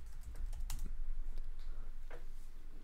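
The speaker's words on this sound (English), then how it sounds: "I'm typing." Quiet, steady typing on a computer keyboard, with a flurry of soft key clicks at an uneven pace, alone with no voices.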